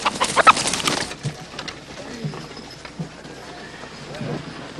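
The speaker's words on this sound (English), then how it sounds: "Rooster!" A rooster on a frontier homestead crows and clucks in a burst of loud squawks and flapping at the start, followed by softer clucks and scattered footsteps.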